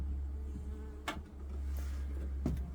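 Honeybees buzz around a newly installed hive box in a steady, faint drone, with a few brief louder passes of individual bees flying close by.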